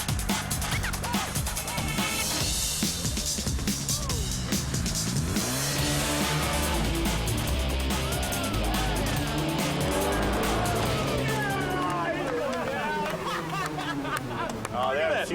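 Drag race cars roar at the track, loud engines revving and sweeping in pitch as they launch and pass, with tire noise and a crowd chattering throughout.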